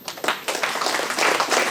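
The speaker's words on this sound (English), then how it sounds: "You must clap for yourselves for this." Audience at an Independence Day address in India breaking into applause, a dense, even wash of clapping that swells over under two seconds, loud and close, with no voice over it.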